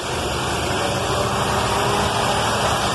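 A car engine idles steadily after its ignition dwell is adjusted down from 40 toward the 26–33 range, still running a little rough, with a constant close-up drone and no voices.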